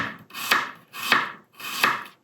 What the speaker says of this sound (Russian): 3 зубчика чесночка берется и нарезается